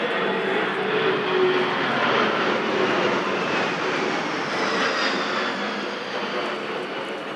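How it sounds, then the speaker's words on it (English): A C-17 Globemaster III military transport jet passes overhead during a veterans parade in Auburn. Its engines make a loud, broad roar that swells and then slowly fades as it moves away, with no voices over it. "That was the C-17 Globemaster III."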